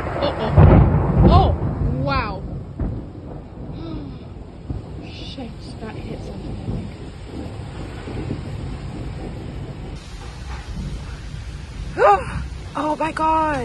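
Thunderstorm heard from a balcony with rumbling thunder and gusty wind noise, while people talk and exclaim loudly throughout.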